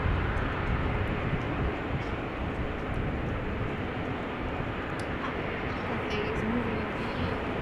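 Cathay airliner taxiing at Amsterdam Schiphol Airport, a broad steady jet roar heard from a distance, with voices talking over it.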